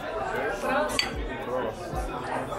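Two one-litre Mass beer mugs clinking together in a toast in Munich, a single sharp glassy clink amid a lively background of talk and clatter.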